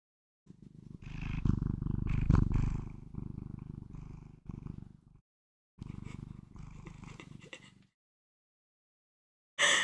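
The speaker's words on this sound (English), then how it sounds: "Could you guys hear him purring?" A cat purrs in a deep, steady rumble, close and fairly loud, pausing briefly before a second stretch of purring, then a short burst at the end.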